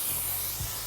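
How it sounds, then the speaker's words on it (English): A can of non-stick cooking spray hisses onto chicken pieces for oven-fried chicken, one steady close spray that runs almost a second before cutting off. "I love putting some non-stick spray on top because it helps like almost fry it"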